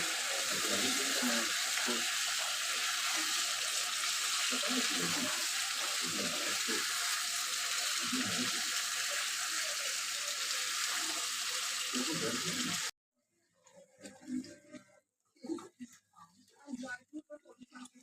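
Chicken with onion, tomato, capsicum and green chilli frying hard in a pan, a steady loud broadband sizzle for most of the clip that cuts off abruptly, leaving quiet scattered clatter afterward, with a voice talking over it.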